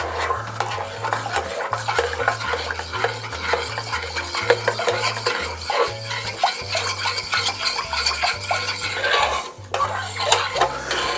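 A spoon stirs keto simple syrup made with RX Sugar allulose in a pot, clinking and scraping in an irregular rhythm over a low steady hum.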